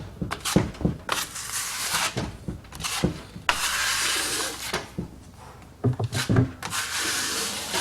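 Plastering blade scraping and spreading InterPlast finishing plaster across a wall in repeated rough strokes with short pauses, close and moderately loud, no talk.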